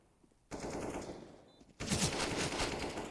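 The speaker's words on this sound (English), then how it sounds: "Major firing through that smoke does get caught off for 1 trade on the Spirit side" Gunfire in a professional Counter-Strike esports match between Eternal Fire and Team Spirit, with bursts of rapid shots that start abruptly and intensify after a brief lull.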